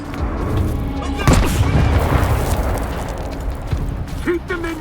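A grenade goes off in S.T.A.L.K.E.R. 2 with a loud, heavy boom and a rumbling tail, amid combat noise and shouted voices.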